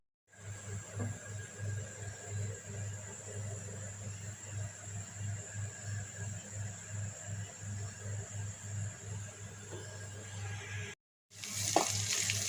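Spices frying in a pan for chicken bhuna, a continuous close sizzle with a low steady hum beneath, running unbroken for most of the stretch before a brief gap and a louder burst of frying.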